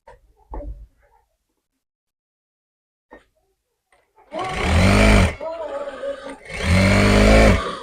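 A sewing machine stitching a Lycra churidar pajama runs in two loud, steady whirring bursts, close by, after soft talking and a stretch of near silence.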